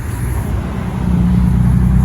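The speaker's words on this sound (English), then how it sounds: "Bentley Continental GT Mulliner edition" A Bentley Continental GT Mulliner climbing a ridge in a 20 mph zone at Alderley Edge, its engine a steady low rumble that swells gradually louder as the car approaches, with no talk over it.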